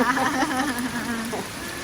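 Rain falls steadily outdoors in Thailand, a continuous close patter on surfaces, with a faint voice or tonal hum running underneath.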